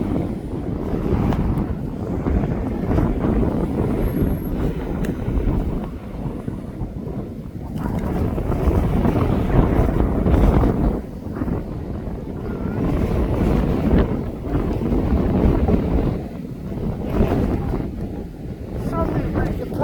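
Gusty wind buffeting a camera microphone outdoors at East Midlands Airport, a loud rumbling roar that rises and falls in waves, with faint aircraft noise beneath.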